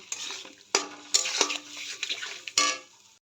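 Spices and fish are sautéed together in a pan, with abrupt metallic clanks of a spatula against the pan over crackling frying hiss, close and intermittent, with no one talking.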